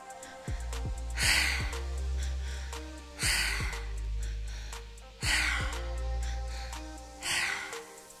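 Four cycles of loud, rushing breaths in a three-part breathwork pattern, each a sharp inhale followed by a forceful exhale through the mouth, repeating every two seconds over a low background drone.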